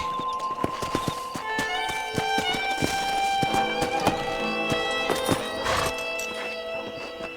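Horse hooves clip-clopping in a steady walking rhythm in Red Dead Redemption, with a musical score and other game sounds underneath; the hoofbeats are close, distinct and repeated throughout.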